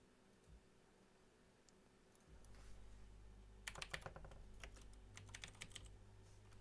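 Typing on a computer keyboard, quiet at first, then a fast burst of close, crisp key clicks with uneven rhythm over a low steady hum.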